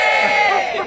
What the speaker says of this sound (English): let's have a cheer, yay!